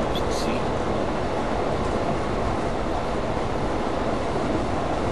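A train heading toward Trani rumbles with a continuous, loud, even roar of wheels and carriage noise, steady throughout with no pauses.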